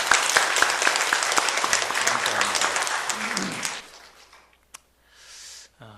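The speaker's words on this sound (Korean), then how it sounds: "우리 모두를 위해서 한번 박수 한번 또 해주시면 감사합니다" A church congregation claps loudly at a Korean worship service, dense applause that fades out after about four seconds, followed by near-silence and a few small sounds.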